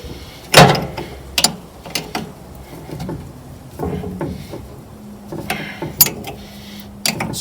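Wrench tightening a gland nut on a dump trailer's hydraulic fitting: close metallic clicks and clanks in irregular bursts with faint scraping between, no talk.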